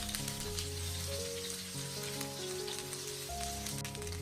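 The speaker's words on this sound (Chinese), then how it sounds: "充分的把豆腐煎至金黄。" Tofu pan-frying until golden, a steady close sizzle of oil that runs unbroken the whole time with no voices, with gentle background music playing underneath.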